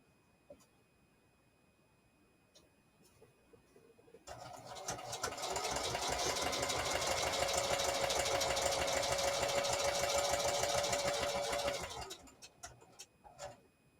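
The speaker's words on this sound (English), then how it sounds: "I am just going to sew right here" A sewing machine stitches pages of a junk journal in one steady, whirring run of about eight seconds, close and loud, framed by quiet clicks and handling before and after.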